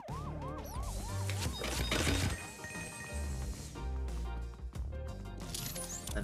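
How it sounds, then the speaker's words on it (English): A ghost-detecting siren sounds in Luigi's Mansion 3, a rising-and-falling wail repeating several times in quick succession, followed by crashing, clattering game sounds and a busy musical bed that continues to the end. "is the siren saying I'm near some ghosts?"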